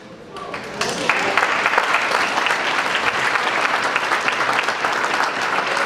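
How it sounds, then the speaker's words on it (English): Applause from the audience at a 2014 political fundraiser fills a room, building quickly after a brief lull and then holding as a steady, dense clatter of many hands clapping. "Give yourselves a round of applause"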